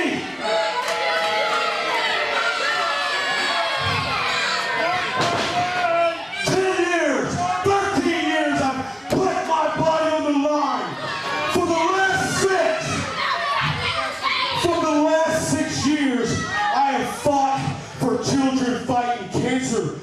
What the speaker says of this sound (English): And you're gonna boo me?